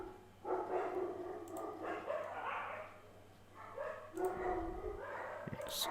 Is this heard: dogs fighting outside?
yes